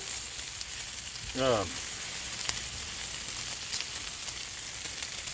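Bacon frying on a single-burner 17-inch Blackstone griddle, a continuous close hiss and crackle with a brief voiced sound partway through.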